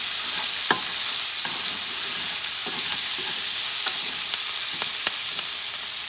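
Cut vegetables frying in a paella pan for an ostrich paella: a steady, loud sizzle with occasional stirring scrapes and pops, no voices.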